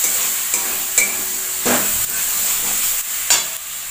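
Tomatoes sautéing in a pan for a fish egg curry give off a loud, steady sizzle broken by several sharp spoon scrapes and knocks at irregular intervals. Close and with no talking.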